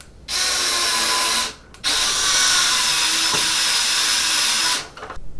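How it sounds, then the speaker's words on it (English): A small power driver whirs in two sustained bursts with a short pause between, driving self-tapping screws through a fan into a 3D printed part for a Bambu Lab P1P printer, close and loud. "Use those screws to attach the fan to your fancy 3D printed part."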